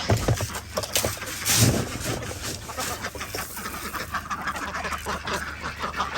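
Ducks and other poultry on a homestead wait to be fed, quacking and honking at a moderate distance in a loose, irregular chorus with rustling and shuffling, and no one speaking.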